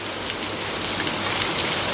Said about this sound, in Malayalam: ഇപ്പോൾ ഒരു അരമണിക്കൂറായി മഴ തുടങ്ങിയിട്ട്